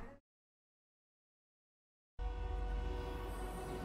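Train from a Fortnite game trailer rumbling in loud and close after a brief silence, with a horn-like tone and steady rolling mechanical roar.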